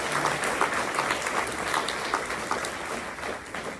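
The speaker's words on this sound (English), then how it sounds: "How about a round of applause for Mr. Jim Moore, ladies and gentlemen?" A crowd at an athletics hall of fame induction ceremony gives a round of applause for an inductee, with continuous dense clapping that holds steady and loud throughout, no talking over it.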